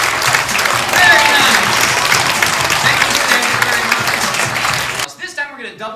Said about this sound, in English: Give a little round of applause, everybody.